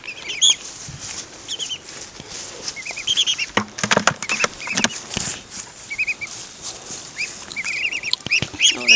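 Ducks quacking and clucking in irregular bursts nearby, several birds calling over one another at a homestead, no talk.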